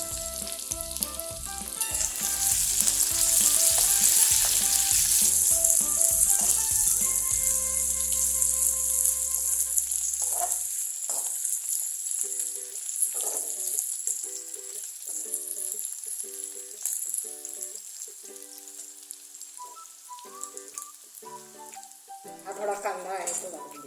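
Garlic paste sautéing over a high flame for veg Manchurian gravy, a loud steady sizzle and fry hiss with clinking stirring strokes near the start, fading into quieter frying later.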